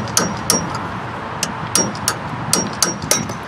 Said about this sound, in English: Got to take off this front grease cover thing like this.